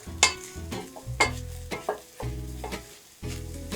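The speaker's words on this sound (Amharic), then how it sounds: "አብሮ ሲጠበስ በጣም ቆንጆ ነው የሚሆነው።" Food being stir-fried in a pan with salt and black pepper: crisp sizzling bursts alternate with scraping stirs in an irregular rhythm, close and moderately loud, with no talking.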